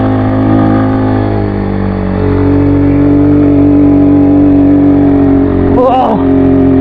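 Motorcycle engine droning steadily while stuck on a rough rural road, loud and close, with a brief strained rise near the end; someone talks over it.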